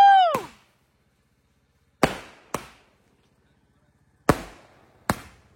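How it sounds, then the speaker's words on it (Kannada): Firecrackers bursting at an outdoor birthday party: a whistling rise at the start, then four sharp, loud bangs spaced a second or two apart, each with a short decaying tail and silence between. "ಹತ್ತು ಪಟಾಕಿ"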